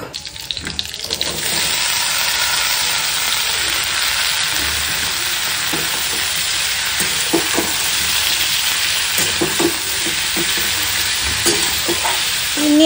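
Cut potatoes for aloo chorchori sizzle steadily in a hot pan, a dense, even frying hiss throughout, with occasional scraping and clinks as they are stirred close by.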